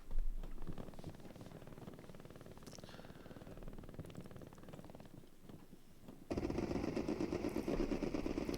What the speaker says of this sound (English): Strafing run comes in.